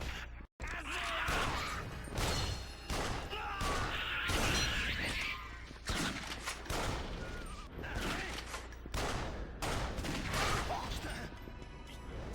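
Shotgun fire in Yakuza Dead Souls combat: a dense run of sharp gunshot bursts with shattering and crashing impacts, loud and fairly continuous, over background game noise and some voices.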